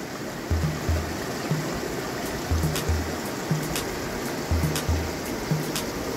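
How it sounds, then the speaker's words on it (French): Meltwater flowing from a melting glacier, a steady rushing stream of water with a continuous broad wash, alongside a faint repeating low rhythmic thump and soft clicks. "et toute l'eau qui s'écoule."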